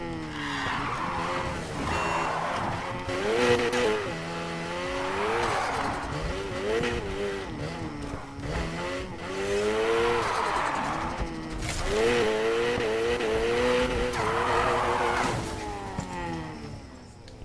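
Drift car from the racing game NFS Heat, its engine revving and wailing through repeated rising and falling sweeps as tyres squeal and skid, loud and continuous for the full stretch with game music or sound effects layered underneath.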